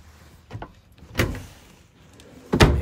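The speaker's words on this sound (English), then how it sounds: "I'm gonna open up this closet." A closet door opens inside a 2019 Dutchmen Voltage 3805 TH fifth-wheel trailer, giving three short, close thumps and rattles spaced about a second apart, with the last the sharpest.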